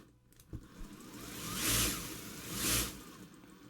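An Injora RC crawler's electronics and chassis drive run alone, a quiet whirring that swells twice as the motor speeds up and then eases off.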